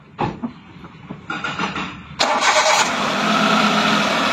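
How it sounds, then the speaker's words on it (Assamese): A car engine cranks in short bursts, then catches and settles into a steady running rumble, close by, after new Continental belts were fitted. "ইঞ্জিন স্টাৰ্ট হৈ গৈছে"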